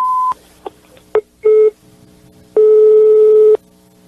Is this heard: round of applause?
no